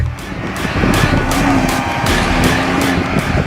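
A car at speed on a race track during a timed lap, engine roaring loud and close with rhythmic pulsing surges and a thin high whine running through it.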